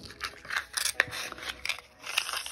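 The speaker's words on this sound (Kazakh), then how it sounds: "Енді мына жағын біз қиып тастаймыз да." Scissors snipping the thread of a handmade shambala bracelet, a few faint close clicks and snips against quiet background.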